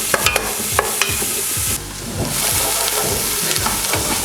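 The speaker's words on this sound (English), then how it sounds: "So your 1 white onion and 1 red onion, give it a good stir." White and red onions sizzle and fry in a pot while a spoon stirs through them, with a steady hiss under repeated scraping strokes, loud and close.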